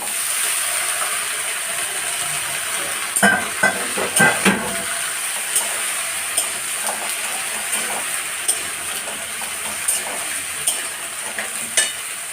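Flat beans, eggplant, potato and taro frying with onions in a pan, a steady loud sizzle with repeated scraping stirs of a spatula running throughout.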